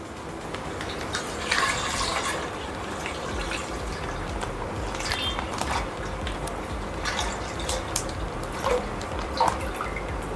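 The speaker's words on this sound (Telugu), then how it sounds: "ఇందులోకి 1 లీటర్ మిల్క్ యాడ్ చేస్తున్నాను నేను." One litre of milk poured steadily into a pan for kheer, a continuous liquid stream with splashy bursts and a few clinks, close and fairly loud throughout.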